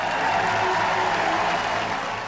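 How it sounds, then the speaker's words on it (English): Sustained applause from an audience giving the Queen a standing ovation in Ireland, a steady, dense roar of clapping from a large crowd filling the hall, loud and unbroken throughout. "She seemed to be completely taken aback by the standing ovation, the applause"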